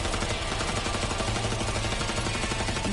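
Submachine gun fire in a sci-fi shooter video game, a dense, continuous rattle of rapid shots filling the whole stretch at steady loudness.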